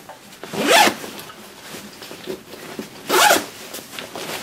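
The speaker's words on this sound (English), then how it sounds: "Dual zippers." Dual zippers on an Eberlestock Gunslinger II pack are pulled open in two quick, close, crisp rasping strokes separated by a pause with faint handling noise.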